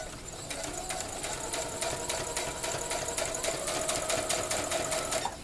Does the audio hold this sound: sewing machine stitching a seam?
yes